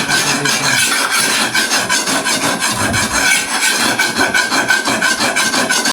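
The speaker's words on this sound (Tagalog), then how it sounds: "tapos na tayong maghasa" Hand file sharpening a short, broad, fairly heavy blade: rapid rhythmic rasping strokes, close and loud, repeating steadily throughout with no talk.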